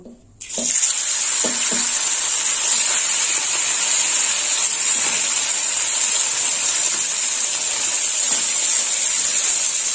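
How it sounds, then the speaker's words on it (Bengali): Fish frying in hot oil sends up a loud, steady sizzling hiss that starts after a brief quiet moment and continues evenly to the end, with no voices. "এই তেলেই আমি বাকি মাছগুলো ভেজে নেব।"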